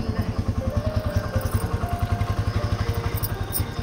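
Motorcycle carrying three riders on a rough road, its engine a steady, close, thumping chug with a fast even pulse and no talk over it.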